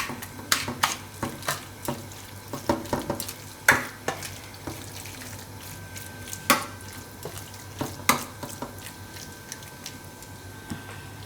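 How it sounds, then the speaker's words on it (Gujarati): Vermicelli idli batter being stirred in a bowl, with scattered scraping and tapping strokes, some sharp clinks of the spoon against the rim, close by and moderately loud, no voices. "એકદમ મિક્સ કરી લેવાનું."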